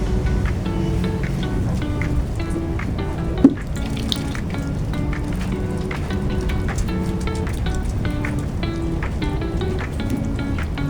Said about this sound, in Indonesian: kita mencuci tangan kembali dengan 6 langkah benar menggunakan sabun dan air mengalir